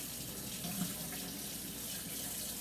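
Warm water runs from a kitchen tap in a steady, hissing stream that splashes into a sink, continuous and fairly quiet throughout, with no talking.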